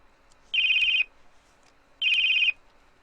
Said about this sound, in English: Uh-oh. It's a home phone.